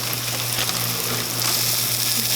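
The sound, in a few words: meat frying in a pan for pepper steak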